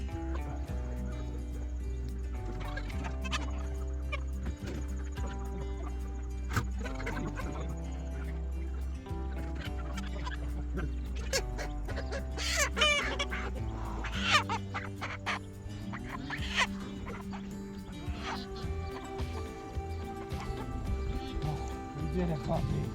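Chickens cluck repeatedly after being moved into a new pen on a small homestead, mixed with busy farmyard clatter and indistinct voices throughout.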